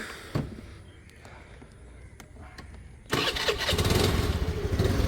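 A click and brief quiet, then a motorcycle engine abruptly starts up around midway and settles into a loud, steady idle with a throaty rumble.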